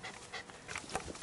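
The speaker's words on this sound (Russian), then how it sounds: "собачонки тут балдежные" A dog pants rapidly in quick, breathy huffs, close and fairly quiet, on a roadside during a solo cycling trip across Russia.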